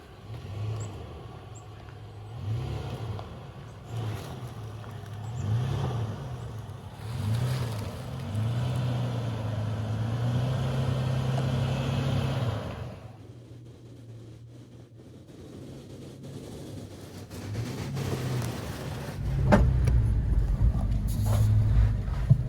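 Toyota FJ Cruiser driving off-road along a rough path, a steady low engine drone with bumps and rumbles, easing off midway and then rising into a louder rev near the end.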